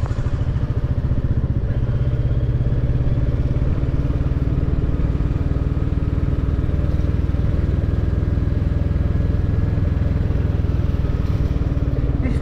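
A Royal Enfield Classic 350 motorcycle ridden along a country road, its single-cylinder engine thumping steadily and loudly up close for the whole stretch, with wind rumble and no clear talk.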